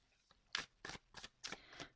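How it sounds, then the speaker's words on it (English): Tarot cards riffled in several quick shuffling bursts, four or five crisp papery flurries close by with short pauses between them and no talking. "So cards just wants to shuffle."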